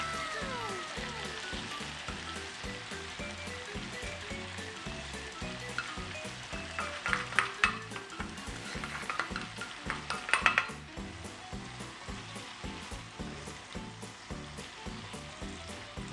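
Buttered shrimp with cheese stirred in a pan over medium heat, giving a steady background sizzle with scraping and clinking of a utensil against the pan, a few louder clatters in the middle.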